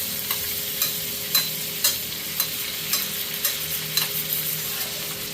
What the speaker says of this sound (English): So what you want to do is tilt right there and continue to baste, okay?